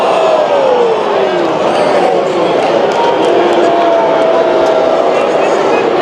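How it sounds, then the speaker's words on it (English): A large, enthusiastic crowd at a Boston ballpark roars in a continuous, fairly close wall of cheering and voices, with whistle-like tones rising above the din. "The crowd is very enthusiastic here. Can you hear them?"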